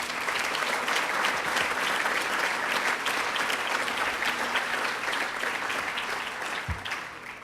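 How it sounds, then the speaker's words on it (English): Sustained applause from an audience at the 2013 Adirondack Challenge awards ceremony, a dense steady wash of many hands clapping that tapers slightly toward the end. "But let's give them a round of applause."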